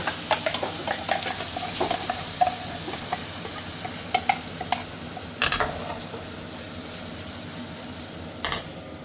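Spice masala with fenugreek seeds is stirred and roasted in oil in a pan, producing a steady sizzle under frequent clattering scrapes and taps of a spoon against the pan, close-up and without talk.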